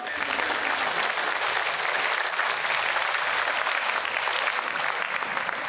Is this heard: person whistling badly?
no